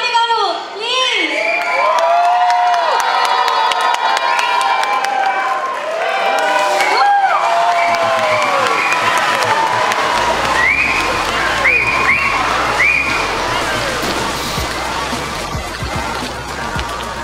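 A crowd at a Telugu Ugadi 2013 celebration concert claps and cheers steadily throughout, with shouts over the applause and tonal music or singing running alongside, the sound loud and close.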